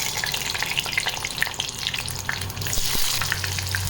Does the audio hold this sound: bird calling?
no